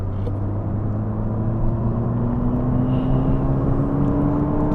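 Turbocharged Mazda MX5, a cheap track-day car, under full throttle on a damp race track, engine drone climbing steadily in pitch, loud and close from inside the cabin.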